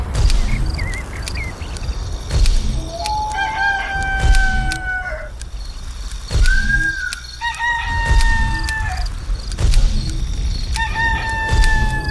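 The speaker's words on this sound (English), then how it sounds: "the rooster would keep crowing until it gets hoarse" In the game Black & White 2 a rooster crows repeatedly, drawn-out cock-a-doodle-doo calls about every few seconds, with clucking and a soft outdoor ambience in between.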